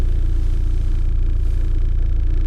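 Steady low rumbling idle of a VW Golf GTI MK2 engine, an even throbbing pulse held at constant level throughout, close and loud with no voices.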